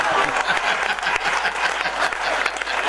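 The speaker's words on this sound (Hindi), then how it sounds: "ऊपर हाथ उठा के ताली बजाई जाती है" Dense crowd clapping fills a pavilion at a poetry recital, steady and loud throughout, with a voice faintly mixed in underneath.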